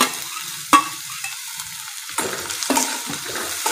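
Carrots, capsicum and cabbage frying in a pan for a vegetable manchow soup: a steady sizzle broken by several close, scraping stirs of a spatula, louder bursts of frying in the second half, and no voices.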